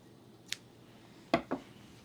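Scissors snip through purple crochet yarn, making three sharp, close cuts: one soft snip, then two louder ones in quick succession against a quiet background with no talking.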